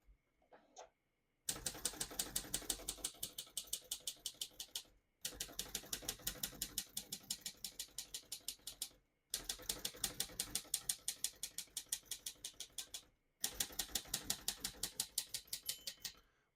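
Rapid, crisp mechanical clacking of a 1938 Royal De Luxe portable typewriter in four long bursts, each separated by a short pause, close and steady with no voices.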